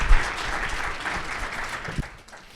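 An audience at a leadership conference closing keynote claps together in a warm, even round of applause that swells at the start and tapers off after a couple of seconds.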